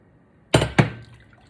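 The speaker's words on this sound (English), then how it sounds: "Add the chicken stock" Chicken stock, a mix of store-bought and homemade, is poured gently into a pot of collard greens for Southern-style cooking, heard as two short close splashes of liquid that fade into a faint trickle.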